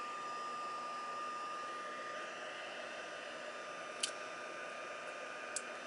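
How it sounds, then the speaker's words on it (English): An embossing heat tool blows hot air in a steady, even whoosh that stays close and constant throughout, with two brief faint clicks near the end. "We have a emboss setting and a paper dry setting on our embossing tools."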